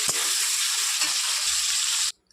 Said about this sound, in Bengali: এবার এই তেলের মধ্যে দিলাম টমেটো, আদা, ধনেপাতা, কাঁচা লঙ্কা, শুকনো লঙ্কা এবং এলাচ। সব কিছু একটু হালকা করে ভেজে নেব।